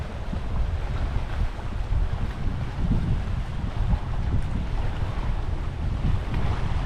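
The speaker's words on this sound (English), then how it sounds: "It's a little breezy out today." Wind blowing at Jenny Lake in the Tetons, a continuous low rumbling buffet across the microphone with gusty swells, steady and close throughout, no voices.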